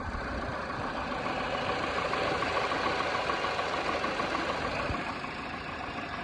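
A Peugeot 307 CC engine that had caught fire, fitted with a new coil pack and spark plugs, runs steadily after a restart, giving a loud, continuous idle with no talk over it.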